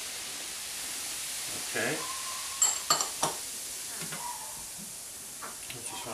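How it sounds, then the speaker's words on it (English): Baking soda sprinkled into a pot of boiling pretzel water fizzes and hisses steadily, with a few sharp clinks and stirring scrapes, while a person speaks briefly nearby. "as you see, it fizzes up when you do that"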